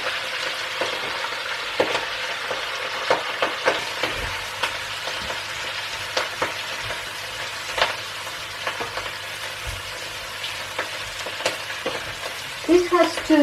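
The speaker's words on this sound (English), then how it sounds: "You can hear the sizzling." Pancetta and vegetables sizzle loudly in a pot while being stirred, a continuous crackling fry broken by scraping stir strokes and a few sharper clatters near the end.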